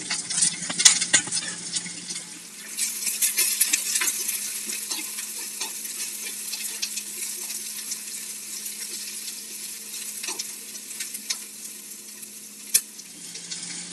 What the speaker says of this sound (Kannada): ಈಗ ಈರುಳ್ಳಿ ಹಾಕ್ತಾ ಇದ್ದೀನಿ ಎರಡು ಈರುಳ್ಳಿನ ಸಣ್ಣದಾಗಿ ಉದ್ದಕ್ಕೆ ಸಣ್ಣದಾಗಿ ಕಟ್ ಮಾಡಿ ಇಟ್ಕೊಂಡಿದ್ದೀನಿ